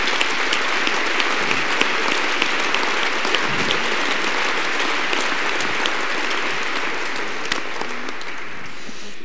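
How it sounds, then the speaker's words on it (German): Loud, dense audience applause fills a gala hall, sustained evenly from start to finish as a steady wash of many hands clapping with no talk over it. "Das ist dein Applaus."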